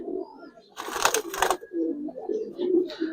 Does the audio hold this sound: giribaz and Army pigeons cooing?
yes